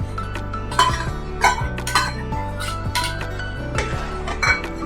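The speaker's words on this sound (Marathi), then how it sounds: "आता या स्टेजला आपण हे जे शॅलो फ्राय करून घेतलेली अंडी आहेत ती आपण यामध्ये घालूया" Shallow-fried eggs go into a simmering egg curry in a pan, bringing a series of close metallic clinks and taps of a spoon on the pan at an uneven pace over quiet background music.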